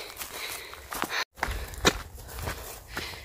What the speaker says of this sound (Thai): ลุงป้าเดินขึ้นเนินค่ะ